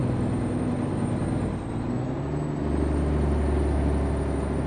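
A Mack R heavy haul truck in American Truck Simulator cruises at highway speed, its deep engine drone steady and loud, shifting pitch briefly midway.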